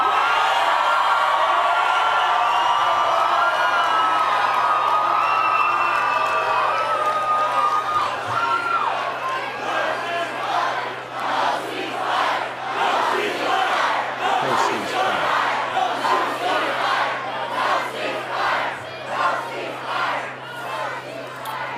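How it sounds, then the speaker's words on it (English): A large crowd chants "no ceasefire" in loud, rhythmic unison, repeating the phrase over and over with whoops and cheers mixed in, after an opening stretch of more scattered shouting. "And he just had the crowd chanting after his statement."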